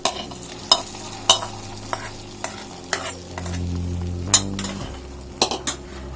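Spoon stirring milk rava kesari in a metal pan after a mixture is added, with repeated sharp scraping clinks about every half second over a steady low hum, close and fairly loud with no talking.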